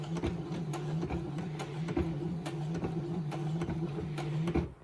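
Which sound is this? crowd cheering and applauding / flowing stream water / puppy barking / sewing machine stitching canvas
sewing machine stitching canvas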